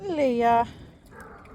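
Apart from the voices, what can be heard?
dog barking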